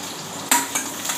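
Half an onion, cut and dropped into a pan, sizzles and crackles as it is stirred, with a sharp burst of frying at the start and softer stirring scrapes after, close and fairly quiet.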